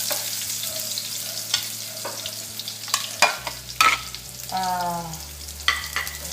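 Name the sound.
red onions frying in pan for bitter gourd stir fry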